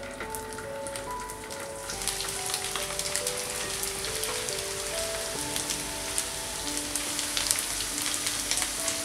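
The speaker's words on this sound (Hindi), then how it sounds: "ऑयल गर्म हो चुका है, गैस को लो फ्लेम पर कर देंगे और ऑयल में ये आलू के पीसेस डाल देंगे।" Potato pieces fry over a low flame in hot oil, giving a steady dense sizzle and crackle with scattered pops throughout.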